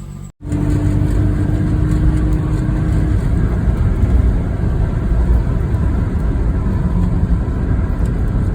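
A V6 Ford Mustang cruises at highway speed with a steady, loud engine and road roar and no voices, after a brief dropout at the start.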